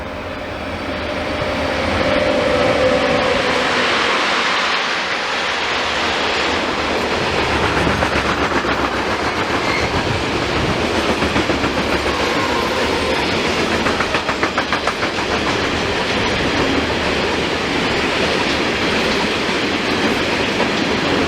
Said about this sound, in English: After the bulk cargo train passed